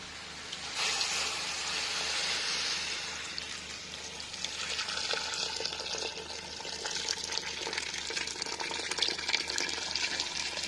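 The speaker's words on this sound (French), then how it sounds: "on va venir ajouter l'eau" Water pours steadily into a pot of vegetables sautéed in butter for a seasonal vegetable soup, a continuous close gushing splash that shifts in tone as the pot fills, with no voices.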